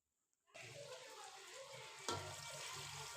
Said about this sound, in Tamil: இப்போ தண்ணி, ஒரு செம்பு தண்ணி ஊற்றிருக்கேன்.